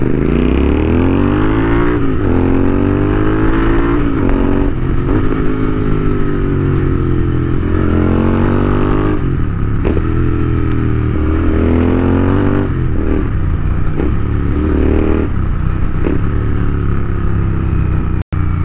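Petrol Royal Enfield GT650 motorcycle being ridden, its twin-cylinder engine loud and close throughout with rising and falling revs through gear changes, no talk.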